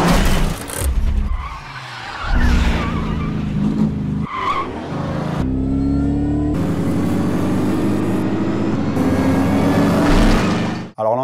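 A car in a film chase scene does a handbrake 180 spin and then reverses, with loud tire squeal and skidding over an engine revving hard, shifting in bursts across several seconds.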